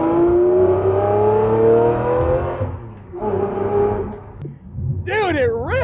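A Lamborghini Murcielago SV with a six-speed manual revs hard in a strong sustained tone, then blips twice through downshifts and finishes with a sharp high rev, with a person speaking between the revs.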